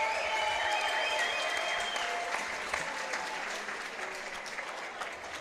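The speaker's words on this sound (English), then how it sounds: "let's give both fighters a big round of applause." Audience at a three-round fight event applauds steadily, a dense wash of clapping that holds loud then eases slightly toward the end, with no talk over it.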